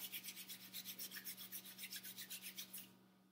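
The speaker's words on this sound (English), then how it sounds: "Rub your hands together." Two palms rub briskly together during a guided breathing and self-massage routine, about fifteen quick, even swishing strokes up close and alone, stopping abruptly near the end.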